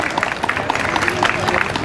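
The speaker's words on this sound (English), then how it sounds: "Big hand of applause for him" An indoor audience claps steadily for a guest of honor at a Republic Day event, a dense, even patter of applause with voices mixed in.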